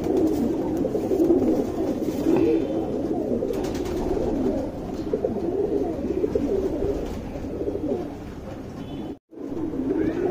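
Pigeons, a Guldar male and a Dumar female, coo continuously in low, throaty rolling calls close by, with a brief dropout near the end.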